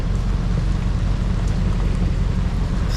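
Heavy rain pours onto a sailboat during a violent squall, a dense, steady, loud hiss of drops drumming on the deck with no pauses, filling the whole stretch without talk.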